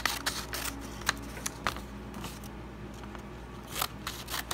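Scissors snip at paper or thin material during an at-home pen-drawn tattoo craft, giving a series of sharp, close clicks at irregular intervals over a steady background hiss.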